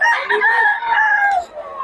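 A rooster crows loudly and close, one long drawn-out call, among chickens being sold at a market in Bocaue.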